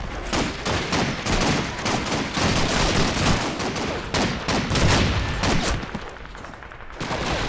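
PPSh submachine gun fire in Call of Duty 2, dense rapid bursts of automatic shots overlapping with other battlefield gunfire, loud and continuous before easing slightly near the end.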